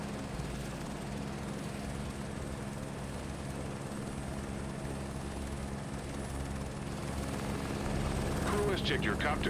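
Helicopter in the Microsoft Flight Simulator 2024 game, a steady rotor and turbine drone with rhythmic chopping that grows slightly louder toward the end.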